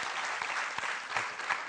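A TV debate studio audience applauds, dense sustained clapping at moderate distance, steady throughout with slight swells.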